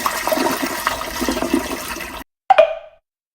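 A household toilet flushes with a loud, close rushing of water that cuts off abruptly, followed after a short pause by a brief gurgling swirl as the bowl drains.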